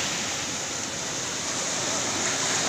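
Rough sea surf pounding a shoreline in bad weather, a dense, steady wash of broadband noise that never lets up, loud and close, with no breaks between waves.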